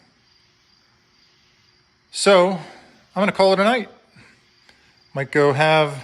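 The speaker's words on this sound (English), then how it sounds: "You might hear the crickets right now." Crickets chirp faintly at night outside a workshop, a thin steady trill in the background that continues behind someone speaking close by.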